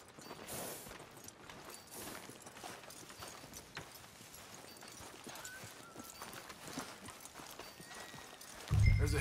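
A horse's hooves clip-clopping at a steady walking rhythm in a video game, soft and fairly distant, with a louder thump at the very end.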